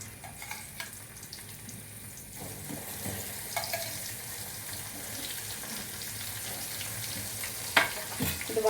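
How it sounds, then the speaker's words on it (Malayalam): Dried mackerel frying in hot coconut oil in a pan gives a steady, moderate sizzle that runs throughout, with a few faint clinks near the end. "അപ്പോൾ നമുക്ക് മീൻ വറുക്കാൻ വെക്കാം കേട്ടോ."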